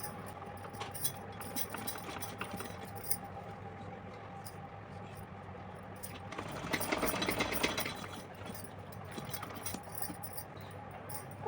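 A sewing machine runs faintly and close by, stitching along the waist of a small Laddu Gopal dress with soft mechanical whirring. The stitching comes in short bursts and swells briefly louder midway.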